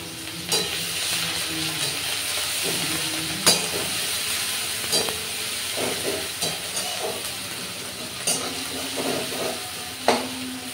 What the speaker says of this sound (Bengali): পেঁয়াজটা ভাজতে ভাজতে